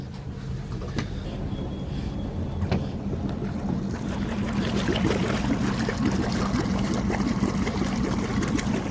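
A motorboat with a Crusader small-block 5.7L engine drones steadily on a sea trial, building slightly in intensity, with rushing water and wind buffeting the microphone throughout; no talking.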